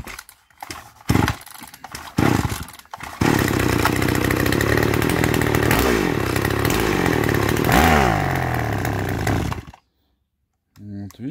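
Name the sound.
chainsaw engine running during carburetor adjustment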